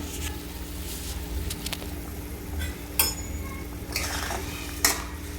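Sugar being stirred into a sour-sweet-spicy carambola chutney in a pan, with a few soft scrapes and light clinks of a utensil against the pan over a low steady hum, close and fairly quiet.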